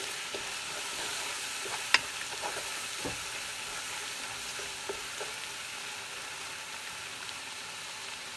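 Butter chicken mixture cooking in a pan makes a soft, even sizzle with a few faint stirring clicks and scrapes, steady and without speech.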